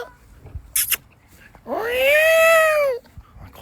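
A peacock gives one loud, drawn-out wailing call on a farm, rising then holding steady for over a second, after a short burst of nearby noise and faint voices.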